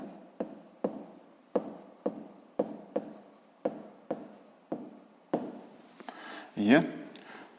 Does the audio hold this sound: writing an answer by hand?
yes